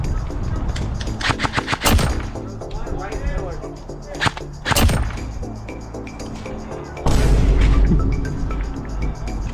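Airsoft guns fire during an outdoor skirmish game, sharp close snapping shots in bursts and single cracks, with a loud rapid volley near the end and scattered impacts between.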